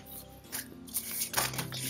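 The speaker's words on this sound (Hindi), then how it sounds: "शफल करना चाहूँगी मैं।" Tarot cards are shuffled by hand, a few quick close riffles and soft slaps of card stock in a short burst, with no talk.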